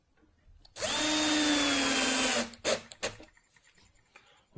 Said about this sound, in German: Und hier auch die Schrauben nur so tief einschrauben, dass sie bündig mit der Spielfläche sind.